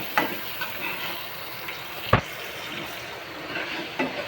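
Onion and tomato sautéing in a pan while cooking moong dal bhaji: a steady broadband sizzle with a few sharp scraping stirs, one louder clack near the middle, close and alone with no voices.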